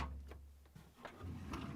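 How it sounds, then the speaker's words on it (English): A Samsung refrigerator's crisper drawer lifted at the front and pulled out of its rails, giving a few soft plastic scrapes and knocks over a low background hum, close and fairly quiet. "Then lift up on the front a little bit and pull them out the rest of the way."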